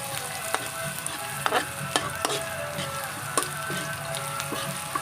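Hotdog and onions frying in a pan give a steady sizzle close up, with the scrape and tap of stirring breaking in every so often.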